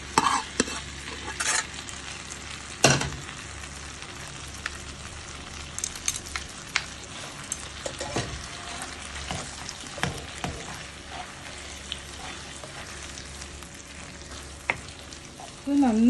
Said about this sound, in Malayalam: ഇനി നമുക്കിതിലേക്ക് നമ്മൾ വേവിച്ച് വെച്ച കപ്പ ഇട്ട് കൊടുക്കാം